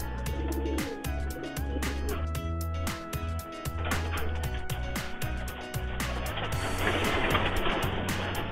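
Racing pigeons kept in Tarlac coo at dawn in repeated, soft, throaty rolling calls close by, with sharp clicking and tapping sounds scattered over them and a rising rush of noise near the end.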